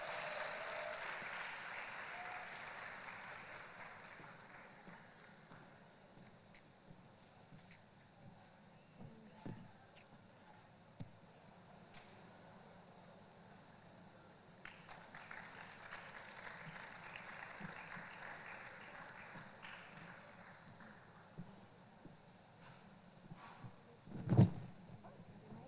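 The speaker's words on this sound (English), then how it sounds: "Please give her a round of applause." Audience applause for a panel speaker at a tech-industry panel discussion on gender equality in Africa, soft and fairly distant, swelling in two waves, with a single sharp knock near the end.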